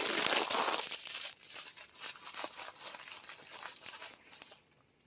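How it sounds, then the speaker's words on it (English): Plastic wrapping crinkles and tears close by in quick rustling bursts as it comes off a glue gun set's case, then goes quiet at the end. "So let's take the plastic off."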